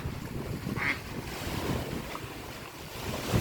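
Strong wind buffets the microphone at a seashore while surf rolls in steadily, a continuous broadband roar of waves and gusts with no talking.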